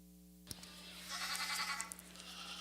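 A goat bleats faintly in the show ring at a county fair goat show, a brief wavering call over a low background hum and crowd rustle.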